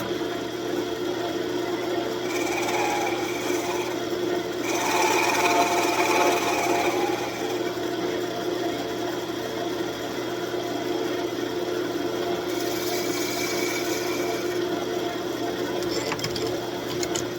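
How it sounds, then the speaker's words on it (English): A scraping tool works a maple cribbage peg on a spinning wood lathe; the motor hums steadily throughout while the cutting edge adds intermittent raspy scraping. "I just have a scraping tool. We're just going to clean this up a little bit"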